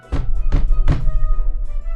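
Heavy footsteps of noisy upstairs neighbors thumping through the ceiling of an old house, as a radio drama effect: three deep, booming thuds in quick succession, each trailing off into a low rumble.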